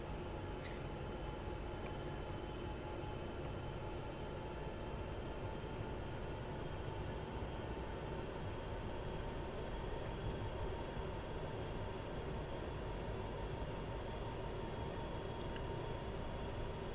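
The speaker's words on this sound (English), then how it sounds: "Who else thinks the audio of this train sounds like it's being played through a long plastic pipe?" A BNSF GP60M diesel locomotive train passes in a steady, continuous rumble that stays faint and hollow-sounding throughout, with no clear approach or fade.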